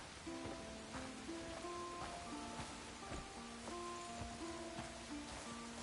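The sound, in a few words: rain in a video game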